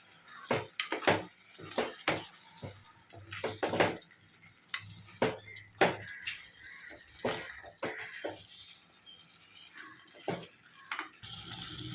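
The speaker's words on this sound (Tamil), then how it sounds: "இப்போ சிக்கனை போட்டு மிக்ஸ் பண்ணி விட்டுடலாம்." Raw chicken pieces being stirred into a cooking pan for Chicken Donne Biryani, a series of wet, sloppy scrapes and slaps spread in an irregular rhythm, fairly quiet and close with no speech.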